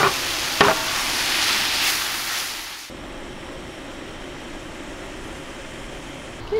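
Garlic and tomatoes frying in a paella pan give a steady, moderately loud sizzle with a brief scrape of stirring early on, continuing alone at a slightly lower level.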